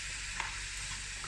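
Pork and green pepper stir-fry in a pan with a steady, bright sizzle and a faint utensil scrape or two, close and even throughout, no voices.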